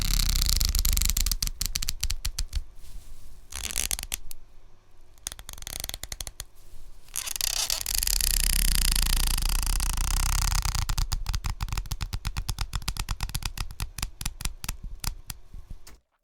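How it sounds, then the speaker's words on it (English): Barbie doll head being twisted and turned, giving close plastic creaks, rapid clicking ratchets and scraping rubs that come in dense bursts with brief pauses. "just twisting and turning on the head"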